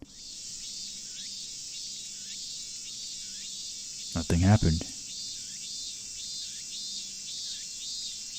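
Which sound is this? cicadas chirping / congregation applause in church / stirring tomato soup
cicadas chirping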